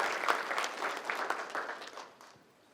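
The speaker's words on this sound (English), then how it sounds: "Can we just get a big round of applause for them and their staff?" Applause for the Wolves Essential Pantry staff at a college state-of-the-college address, a steady round of hand clapping from the audience that gradually fades toward the end.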